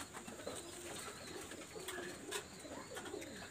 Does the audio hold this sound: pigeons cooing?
yes